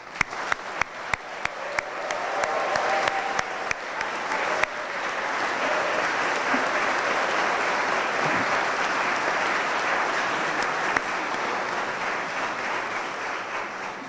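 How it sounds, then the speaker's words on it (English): At a Griffith College Cork graduation ceremony, a few scattered claps quickly swell into loud, sustained applause from a large crowd that carries on steadily. "give a special round of applause to all our graduates here today"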